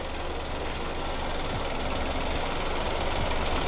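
A Kia Ray Van Prestige engine idles steadily, a constant mechanical hum with a faint rhythmic ticking, close by and fairly loud, with no voices.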